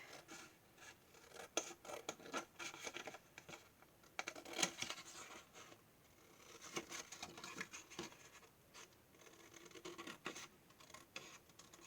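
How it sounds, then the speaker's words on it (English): Scissors snip through stamped cardstock paper for a handmade card in a quiet room, a run of soft, close crisp cuts and paper rustles with brief pauses. "And I'll just cut that out."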